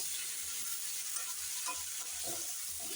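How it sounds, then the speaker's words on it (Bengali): Vegetables with turmeric sautéing in a pan for khichuri, a steady broad sizzle running throughout with soft scraping stirs, no voices. "এদিকে আমি সবজিটা কষিয়ে নিচ্ছি"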